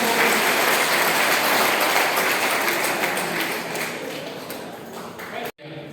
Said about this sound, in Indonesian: Tepuk tangan untuk Bapak Ketua